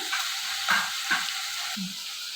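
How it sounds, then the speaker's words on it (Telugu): Whole masala spices, poppy seeds, cloves, cinnamon bark, cashews and dry coconut frying in a pan for a dhaba-style capsicum masala curry, a steady close sizzle with a few soft stirring scrapes and no voices. "దాంట్లోకి వచ్చేసి మసాలా గసగసాలు లవంగాలు చెక్క జీడిపప్పు ఎండు కొబ్బరి ఇవన్నీ దీంట్లో ఫ్రై చేసుకొని"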